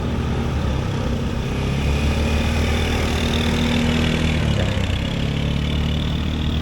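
A steady ATV engine idles close by in an outdoor setting, a continuous low rumble with a slight pitch shift partway through, loud and unbroken with no voices.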